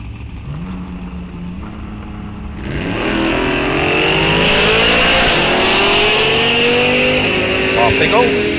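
Drag race launch between a Chevy Malibu and a 2024 Corvette at Rock Falls Raceway: engines idle low, then roar to full throttle and climb steadily through gears, loud and sustained with an announcer talking over it.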